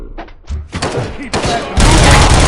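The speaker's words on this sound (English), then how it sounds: "Am I hearing gunshots?" Gunfire in the video game RoboCop: Rogue City, bursts of shots and heavy thuds building into a loud, dense barrage, with character voices talking amid the shooting.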